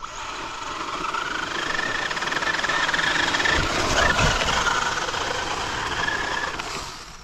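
Traxxas UDR RC truck, now running front-wheel drive only, climbs a dirt berm with a steady, buzzing electric motor whine that swells slightly mid-climb, close and continuous without talk.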